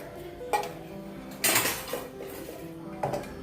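Ragi drink ingredients, including chopped chillies, ginger and curry leaves, drop into a mixer grinder jar with three sharp clinks of metal and utensils against the jar, the middle one loudest, over a quiet kitchen background.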